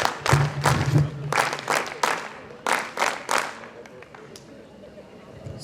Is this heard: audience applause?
yes